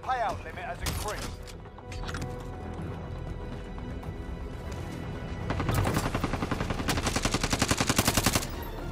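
Rapid automatic gunfire from a gun in a video game rattles out in bursts over other game noise, with a long steady volley building near the end.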